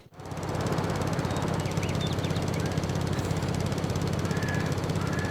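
A small lawnmower-like farm machine engine from the video game Farming Simulator 22 starts up and runs with a steady, dense mechanical drone, close and continuous with no talking over it.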